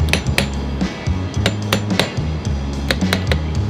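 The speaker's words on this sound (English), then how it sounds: "Just hammer taps" A hammer taps repeatedly on a Denso starter part from a Toyota pickup during a rebuild, setting the brush holder assembly evenly into place; sharp metallic knocks sound close and loud in a quick, irregular series with no talk.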